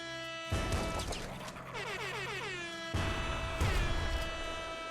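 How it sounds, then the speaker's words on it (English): A loud blaring air horn burst in the video game Nuclear Throne, triggered by the character YV, sounding twice in a row, stacked with tonal harmonics and layered over busy game music and effects. "A secret ability that YV also has, which you may have noticed upon me entering levels, is Air Horn."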